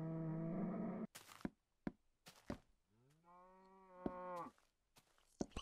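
A Minecraft cow moos repeatedly in the game, a long low harmonic moo followed by a rising-and-falling one, with sharp blocky thumps and clicks between calls; near and clear, no talk.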